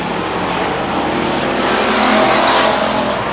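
Race cars roar past at Stockton 99 Speedway as a loud, continuous wash of engine noise that swells slightly as a car closes in, then fades, with no break in the din.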